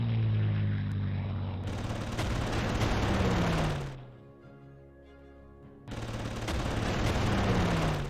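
Aircraft gunfire in the Panzer Corps wartime strategy game, with a fighter shooting down enemy planes: a loud, dense, roaring burst of fire, a brief lull, then another heavy burst close up.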